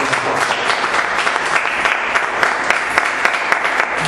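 Loud, sustained applause from a church congregation at the close of a worship service, a thick, continuous clatter of many clapping hands with frequent crisp individual claps and no talking.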